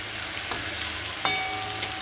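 Radhuni seeds tempering in hot oil for a light home-style Bengali dish with pumpkin and fresh fish: a steady, fairly loud sizzle with three faint clicks or pops along the way, and no voices.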